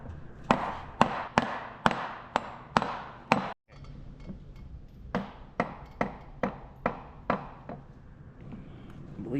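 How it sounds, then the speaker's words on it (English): Rawhide mallet striking the reduction gear of a John Deere B tractor during disassembly, a series of sharp, evenly spaced knocks, about a dozen close blows with a short pause midway, no talking. "So I got my rawhide mallet."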